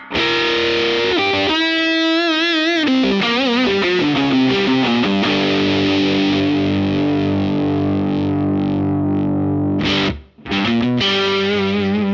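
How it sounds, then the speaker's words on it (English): Electric guitar with the drive effect engaged through a Meloaudio MIDI Commander foot controller, loud distorted chords and sustained notes ringing continuously, with a brief cut-out near the end before playing resumes. "across the top I can turn on, for example, the drive control with button number one"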